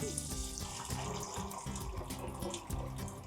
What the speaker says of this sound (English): we're gonna just cover them with water